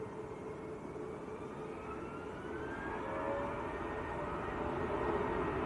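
A Bangladesh airliner arrives at Manchester Airport, heard as a faint, distant jet rumble with a slowly rising whine that grows slightly louder toward the end.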